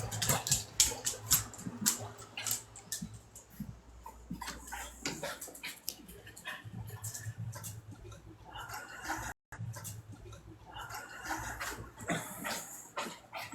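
Dogs moving about a room, with scattered ticking clicks like claws on the floor and faint whimpers, fairly close and continuous under a busy background.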